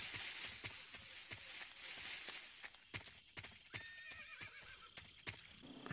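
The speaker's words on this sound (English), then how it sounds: "Ó, um cavalo." Horse whinnying in Metal Gear Solid 3, a clear neigh over steady hoof clip-clops that step rhythmically throughout, with a second whinny later, moderately close against a bright noisy game-ambience backdrop.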